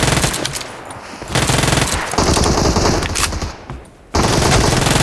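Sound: gunfire in the video game PUBG Mobile

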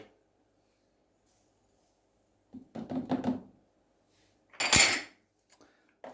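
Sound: spoon stirring Turkish coffee with sugar

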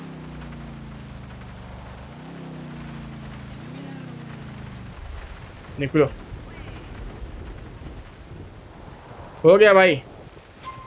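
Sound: rain falling in the video game GTA 4

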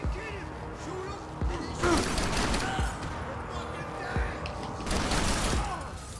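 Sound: gunfire in Max Payne 3 video game

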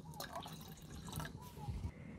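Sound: pouring water into a cooking pot

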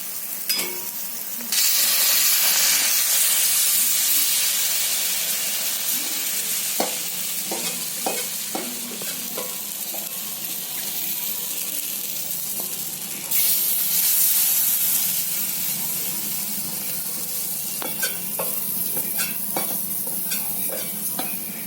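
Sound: gram flour pancake (dhirde) frying in a little oil

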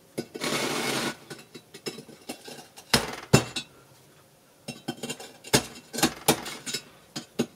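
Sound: chisel being whacked into kiln wall to cut element slot

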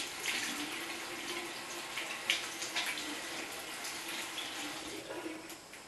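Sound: water running from a tap while rinsing the face

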